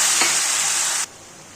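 Loud, close hissing sizzle as water is poured onto fried jackfruit in a hot cooking pot, a steady roar that cuts off abruptly near the end.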